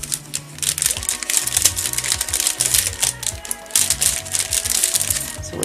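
Noisy plastic crochet hook packaging crinkles and crackles in rapid, irregular bursts close up, a bright rustling texture with small clicks as the wrapping is handled, continuing steadily with no talking.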